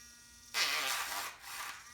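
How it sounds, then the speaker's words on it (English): A rotary carving tool spins up with stone bits to polish wood, starting abruptly as a steady high buzz that holds for about a second and a half, dips briefly, then resumes at close range. "these stones, real quick, will do a little bit of polishing on wood"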